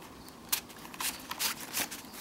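Paper cardstock cards being handled and shuffled for a handmade fairytale-themed mini-album, a string of crisp, close flicks and rustles at an uneven rhythm, with no talking.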